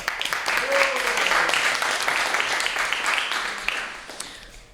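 An audience at a poetry slam at the Barron Arts Center applauds a poet after the scores are read, with a steady wash of clapping of moderate loudness, a voice speaking over it, and the clapping thinning out toward the close.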